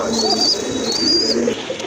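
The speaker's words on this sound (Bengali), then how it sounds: "খুব ভালো মানের এক জোড়া রেড চেকার রেসার কবুতর রয়েছে" A pair of red checker racing pigeons cooing up close, soft throaty rolling coos repeated twice, with a faint high whistling tone above them and no voices.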